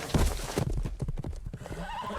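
Horses whinny and hooves clip-clop in a short animated scene, with a loud burst at the start followed by scattered hoof knocks and shifting equine calls.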